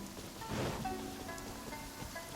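Steady rain downpour in Genshin Impact's Inazuma region, a constant soft hiss of falling water with a slight swell in the middle and faint tonal game sounds layered over it.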